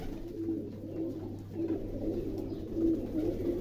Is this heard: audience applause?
no